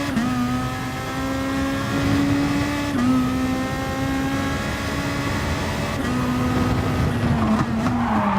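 A race car in a racing video game on the Kyoto circuit holds a loud, sustained engine whine that shifts pitch at each gear change, with tire squeal rising toward the end.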